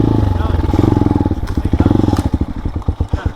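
A motorcycle engine revs and chugs through a river crossing on a Pasig Potrero River trail, a loud, close, stuttering beat of rapid pulses that grows choppier and more uneven toward the end.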